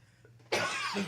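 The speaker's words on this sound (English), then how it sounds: "Thanks for putting up with my last-minute coughing fit there." A single harsh cough bursts out after a brief quiet moment, rough and close, trailing off at the end.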